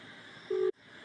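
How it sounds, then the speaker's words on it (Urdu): After a phone call is hung up, a single short busy-tone beep sounds over faint line hiss, then cuts off abruptly into near silence. "یہ فون کاٹ دیا مردود نے"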